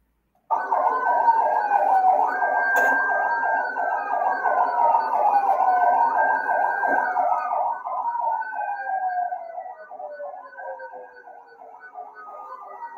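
A police siren wails at a road blockade in Pakistan: a loud, close, continuous rising-and-falling siren with overlapping tones that runs throughout and slowly fades toward the end, with no talking.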